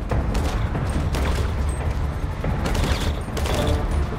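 Dense, continuous gunfire in GTA 5 zombie survival mode, many rapid overlapping shots filling the whole stretch at steady loudness with no clear talk.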